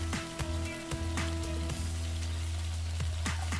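Ground beef frying in a pan as its fat renders out, a steady crackling sizzle with scattered sharp pops over a constant low hum, fairly close and continuous.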